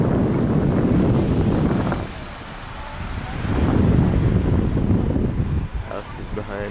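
Wind buffets the microphone on the Atlantic coast at Waterville, Ireland, over a steady roar of ocean surf, loud and close, with a voice talking partway through.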